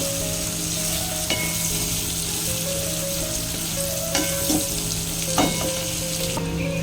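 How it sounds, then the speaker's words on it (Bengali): Capsicum frying lightly in a pan alongside carrot with steady, close sizzling throughout, broken by a few sharp stirring clicks and scrapes of a utensil against the pan; no voices. "ক্যাপসিকাম দিয়ে আগে হালকা ভাজা ভাজা করে নিই"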